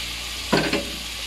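Cauliflower and chayote dropped into a hot pan for chopsuey, a steady faint sizzle broken by two quick close clatters as the vegetables hit and shift.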